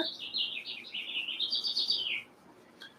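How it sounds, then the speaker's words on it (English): Small birds chirp in a quick, busy stream of high tweets for a couple of seconds, then fall quiet over faint ambient noise. "You may hear all the birds in the background."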